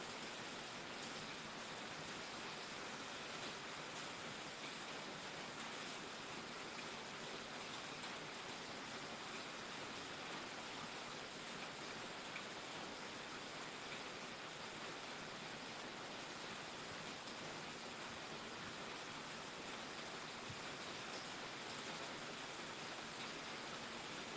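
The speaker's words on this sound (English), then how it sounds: "Love the sound of soft rain." Soft rain falling steadily, a faint even hiss that holds without change the whole time, no voices or other sounds over it.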